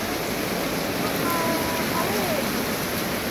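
Floodwater gushes down a street in the Holy Spirit area of Quezon City in a steady, loud broadband rush with no break, and faint voices sit beneath it.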